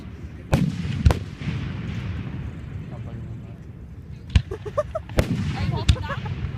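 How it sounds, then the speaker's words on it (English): Fireworks burst over Mentor High School in 2015, several sharp booming pops spaced irregularly, some close together, over a background of crowd murmur and nearby voices talking. "You're trying to get fireworks behind you"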